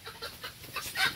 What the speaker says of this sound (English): Lots of chickens.